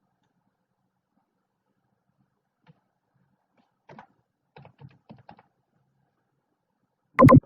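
Values being typed on a computer keyboard in a quiet room, a few soft scattered keystrokes in short clusters, followed by one louder sharp click at the end.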